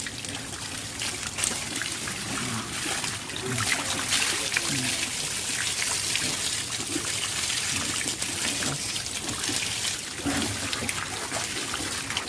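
Clean spring water pours nonstop from a pipe in a free-flowing water system in Bicol, a steady broadband rush heard up close, with people talking over it throughout.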